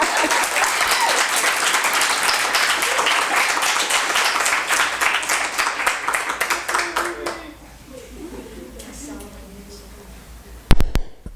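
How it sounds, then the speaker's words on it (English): Audience applause at a student creative writing celebration, a dense wash of clapping from a crowd that fades after several seconds into quiet room noise, with a brief knock near the end. "You can now clap."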